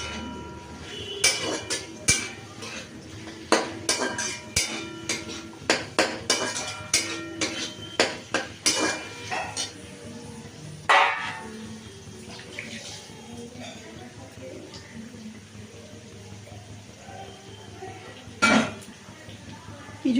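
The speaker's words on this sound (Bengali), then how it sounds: "এবার দেখো গাজরটা আর এটা দিয়ে দেবো, কাঁচা লঙ্কাটা, এটাকেও ভালো করে একটু ভাজতে হবে নরম করে।" Carrots and green chilli being stir-fried in a pan, with a rapid series of sharp metallic spatula scrapes and clinks early on, then quieter sizzling broken by a few more knocks.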